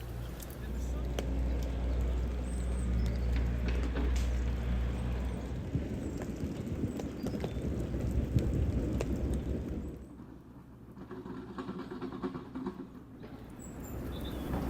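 Winter rain falls outdoors beside a lake where anglers fish for bream, a constant close patter and hiss with low rumbling, easing for a few seconds before picking up again.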